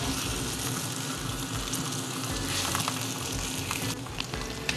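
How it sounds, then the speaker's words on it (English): A budget ribeye steak sears in a hot pan, giving a continuous dense, close sizzle with faint crackles throughout and no voices. "We're gonna let that sear there for about a minute or so"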